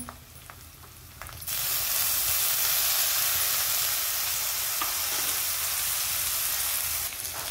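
Chili spice paste with crushed peanut powder and soaked moong dal sizzles loudly in a pan for Hadga flower bhaji, the frying jumping up after a quieter opening and holding a steady, dense hiss with stirring throughout.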